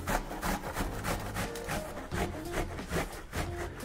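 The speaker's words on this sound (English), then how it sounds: "I use a box shredder on the bigger side, like that." An onion rubbed down the large holes of a box grater, giving a steady run of rough scraping strokes, close and fairly loud, with no talking.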